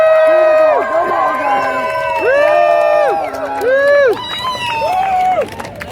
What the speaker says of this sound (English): make as much noise as you can for all of you and for freedom